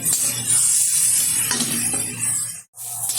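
Mustard flowers and chili fry in a pan with a bright, close sizzle and light clinks of stirring, cut by a short break near the end.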